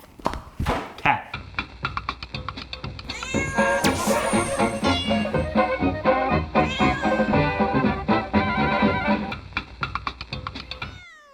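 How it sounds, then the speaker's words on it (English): A cat meows and yowls repeatedly up close, loud drawn-out wails one after another with brief gaps, no talking. "Cat."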